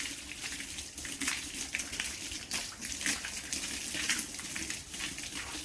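Running water gushing steadily while utensils are washed in a village home, a continuous close splash with faint knocks of metal.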